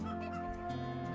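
Cartoonish chickens in the farming game Farm Tycoon cluck in a quick, layered chorus of pitched calls, steady and fairly quiet throughout.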